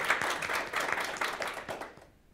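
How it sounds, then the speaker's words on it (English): An audience at an academic talk on second language education gives a round of applause, fairly quiet and a little distant, the claps dense at first and then tapering away into silence. "So let's give them a round of applause again."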